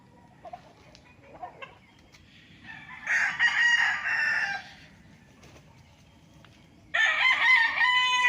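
A rooster on a game farm in Nagcarlan, Laguna, crows twice, each crow loud and sustained, separated by a few seconds of quieter farmyard ambience and faint clucks.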